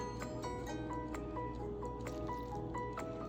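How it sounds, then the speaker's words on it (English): Lukewarm water poured into a pizza dough mixture, a steady low trickling and pouring sound with regular small drips and squishes, close and quiet throughout. "And we're going to add about 1 cup of lukewarm water."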